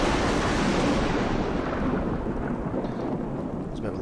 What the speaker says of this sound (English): There's a bit of a loud thunder there